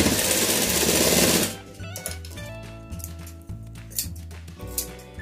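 A sewing machine stitches a cloth baby cap in a loud opening burst of about one and a half seconds, then falls quieter and stops and starts in uneven short runs.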